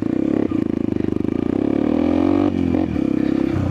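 A Yamaha XTZ 125 motorcycle with an aftermarket exhaust rides over sand dunes, its engine droning loud and close with a steady pulsing beat, briefly cutting and revving again.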